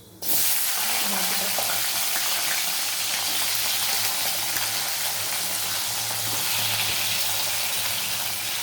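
Vegetables dropped into hot oil with tempered spices, a loud sudden burst of hissing sizzle that continues steadily and close throughout.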